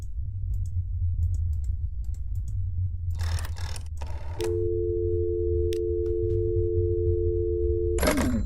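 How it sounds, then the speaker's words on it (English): Handset pickup and a few dial clicks in a video game, followed by a steady electronic busy tone that holds for several seconds before cutting off, with a low ambient hum underneath. "pick up the phone and dial a number"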